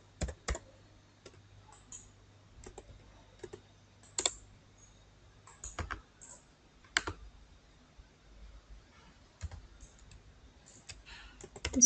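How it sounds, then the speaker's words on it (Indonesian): Keys clatter on a computer keyboard as an IP address is entered, in irregular short bursts of clicks with pauses between, close and fairly quiet with no talk. "kemudian ketik IP-nya."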